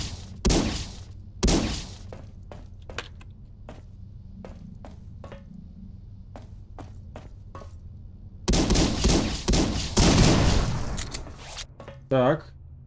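Explosions in the video game Collapse: sharp broadband blasts and bursts, some loud and close with rumbling tails, scattered among fainter cracks and pops over several seconds.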